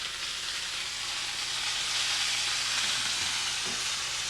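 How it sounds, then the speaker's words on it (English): Food sizzles steadily in too little hot oil in a pan, a constant crackling hiss that stays at an even, moderate level with no talking. "I don't think I hear enough noise in the pan."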